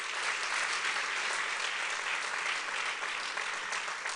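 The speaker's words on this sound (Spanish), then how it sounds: "dale un aplauso más fuerte también a Jesús." A church congregation applauds loudly and steadily during a pastor's sermon, a dense wash of clapping with no pauses and no voices on top.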